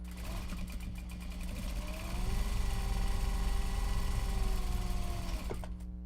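A sewing machine top stitching Japanese fabric for a small box bag runs in a steady continuous whir, close and fairly loud, rising slightly mid-run before stopping near the end.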